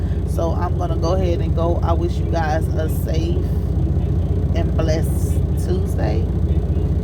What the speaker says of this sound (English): I know this truck is probably loud